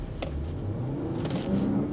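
A Range Rover L460 in sport mode revs and accelerates, a steady rising engine drone heard from inside the cabin with no talk over it.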